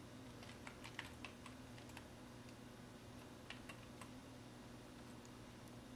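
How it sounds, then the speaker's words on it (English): Quiet, rapid clicking of computer keyboard keys as text is typed, irregular soft taps over a low steady hum, no talking. "and start typing."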